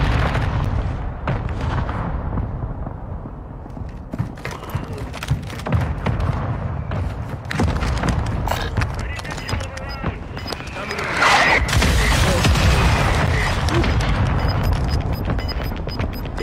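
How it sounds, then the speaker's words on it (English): Mortar strike explosions in an online shooter game hit in repeated heavy booms and thuds, mixed with gunfire and rumbling blasts, loud and dense, while players keep talking over the chaos. "Requesting fire mission. Target marked. Mortar strike inbound now."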